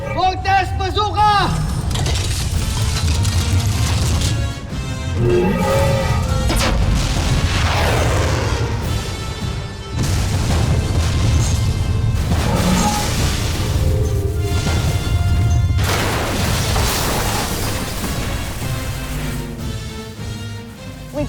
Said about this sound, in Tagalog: Voltes Bazooka!